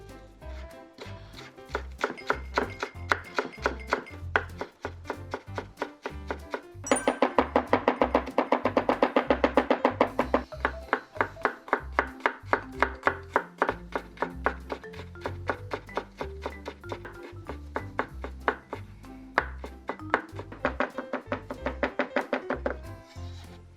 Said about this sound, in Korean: 제일 먼저 대파 마늘은 곱게 다져주세요.